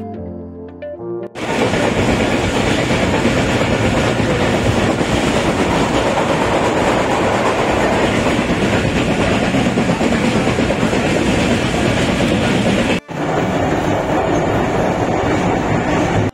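The Sha Latif Express passenger train rolls along the rails in Pakistan, a loud, steady roar of wheels and carriage rumble heard from on board, with a brief dip near the end.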